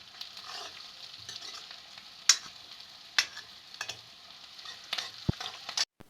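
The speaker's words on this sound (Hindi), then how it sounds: "तो अच्छे से प्याज को भून लिया है।" Onion frying with cumin and carom seeds in a pan, giving a steady close sizzle broken by a few sharp scraping stirs and clinks.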